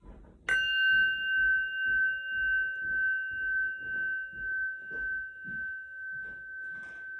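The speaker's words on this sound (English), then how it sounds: "I'm going to ring a bell." A single meditation bell is struck once and rings out clear and loud, its pure tone sustaining and slowly fading over several seconds while soft rhythmic low sounds pulse beneath.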